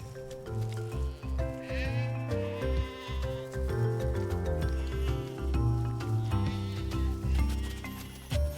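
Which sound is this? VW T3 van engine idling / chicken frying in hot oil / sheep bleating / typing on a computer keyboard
sheep bleating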